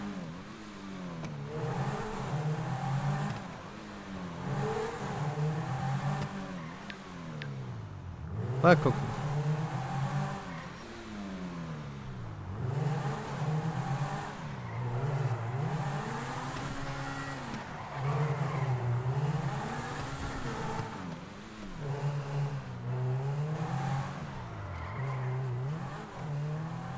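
A car in GTA V drives and revs its engine over and over, the pitch repeatedly rising and falling, with a sharp knock partway through and someone talking over it.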